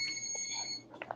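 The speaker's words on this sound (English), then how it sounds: "It's like some beeping." Steady electronic beeping tones from a laptop, several thin sustained pitches held for most of the moment, fairly faint, then fading into brief clicks and soft room noise.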